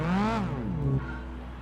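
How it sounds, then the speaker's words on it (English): Car engine in Gran Turismo 4 on snow tyres, revving up and then easing off, with rising and falling harmonic whine, loud and up close before dropping to a steadier, quieter drone. "There it is. Listen to that engine."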